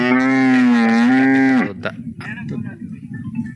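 A cow bellows one long, loud, close moo at a cattle fair in Pati village, Dolvan, then trails off into quieter crowd and background noise.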